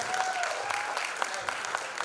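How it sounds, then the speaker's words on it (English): A talk show audience at Hotel Borobudur in Jakarta claps steadily, a dense patter of applause that continues throughout, with a faint voice partly heard over it. "Big round of applause."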